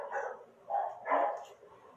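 Dogs barking in the distance, three muffled barks spaced apart and fairly faint, with no speech over them.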